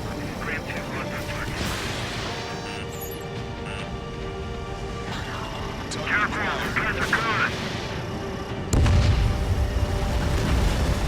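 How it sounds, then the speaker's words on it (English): Bomber aircraft drone through a combat mission in the video game Ace Combat 7: Skies Unknown, a constant engine roar under radio chatter and music, with a loud low boom near the end. "Intercept those bombers."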